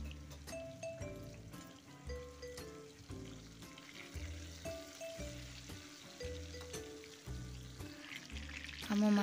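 Fish frying in hot oil until golden, a steady close sizzle broken by repeated rhythmic bursts of louder spitting and bubbling, with no talk.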